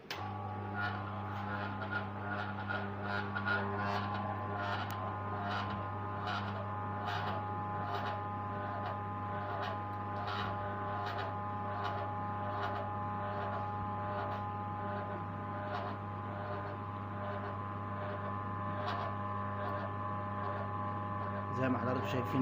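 Seed oil press machine running while pressing peanuts for oil, giving a steady electrical hum with a low drone and faint regular mechanical ticks throughout.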